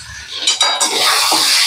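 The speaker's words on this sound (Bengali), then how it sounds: "ঢাকাটা খুলে দেখি আলুগুলো কতটা ভাজা হলো" A metal lid comes off a pot of frying potatoes and onions with a short clank and clink, followed by a steady close sizzle.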